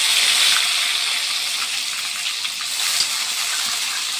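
Water poured into a sizzling pan of ginger, garlic, onion and tomato paste masala with cumin and bay leaves, a loud hissing gush and bubbling that steadies into a continuous sizzle.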